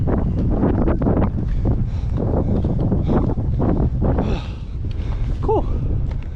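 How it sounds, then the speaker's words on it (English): Strong gusts buffet the microphone on a hiking trail in the Dolly Sods Wilderness, loud rumbling wind roar with rustling and some fluctuation throughout. "It's windy."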